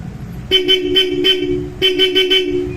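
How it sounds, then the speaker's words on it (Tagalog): Bosch Europa horn fitted to a Honda Click 125 scooter, sounding two loud bursts of rapid short honks, each burst a quick series of four or five blasts with a steady bright tone, close and clear. "Yun, napaka-solid na busina."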